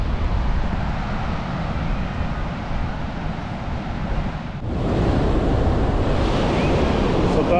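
Steady roar of surf breaking along Scheveningen beach in The Hague, Netherlands, mixed with constant wind buffeting the microphone; no voices, just a continuous wash of waves.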